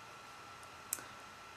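A single crisp computer mouse click sounds partway through, close and brief, over a faint steady hiss of room tone with no voices.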